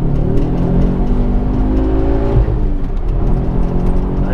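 A Ford Focus RS Mk2 engine revs hard and rises in pitch, a loud, close exhaust note droning steadily with a dip partway through.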